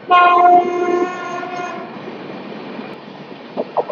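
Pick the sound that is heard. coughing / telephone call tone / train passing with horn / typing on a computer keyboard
train passing with horn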